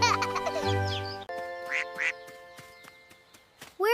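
Cartoonish duckling quacks in a kids' nursery song, a few bright quacks over sustained musical tones, clear and close.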